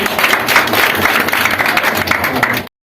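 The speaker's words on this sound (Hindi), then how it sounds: "तो शशांक प्रधान के लिए जोरदार ताली बजाइए" Students and audience applauding a 12th-grade topper at a school event, a dense, steady wash of clapping that holds at an even level for nearly three seconds before stopping abruptly.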